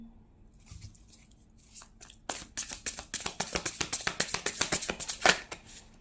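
Tarot cards being shuffled up close, quiet at first and then a rapid run of crisp riffling flicks and slaps that builds in loudness.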